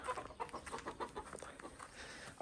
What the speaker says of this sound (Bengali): এই দেখো মুরগিও আছে